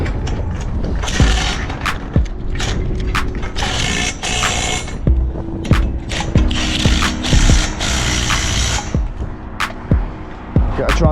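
A ratchet tightens scaffold fittings on a building site with rapid metallic clicking in repeated bursts, close and loud, punctuated by sharp knocks of steel on steel.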